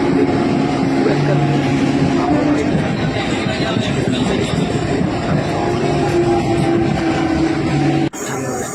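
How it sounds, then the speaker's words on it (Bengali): A train pulls into a small station on a line out of Howrah, with a loud, continuous low rumble and steady mechanical drone close by, ending in an abrupt cut. "দেখুন এই যে আসছে ট্রেন"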